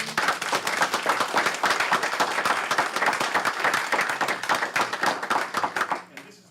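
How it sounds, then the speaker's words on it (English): A round of applause fills a township council meeting, dense and sustained for about six seconds with many hands clapping together, then thinning to scattered claps before fading out. "Can I have a round of applause, please?"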